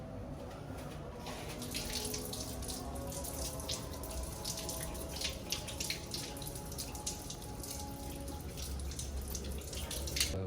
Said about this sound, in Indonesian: Untuk selanjutnya kita cuci tangan terlebih dahulu dengan 6 langkah WHO.